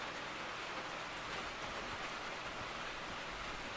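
Rain drums on metal sheet roofing in the train game Derail Valley, a dense, even roar of countless drops with no pauses and no voices.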